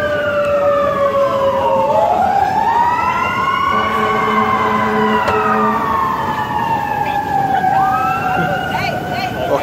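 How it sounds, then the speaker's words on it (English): A loud ambulance siren on a Las Vegas street wails in long rising and falling sweeps as it passes, steady and close over constant traffic noise. "there was just the ambulance passing by"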